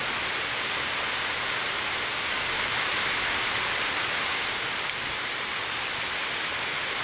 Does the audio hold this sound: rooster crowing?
no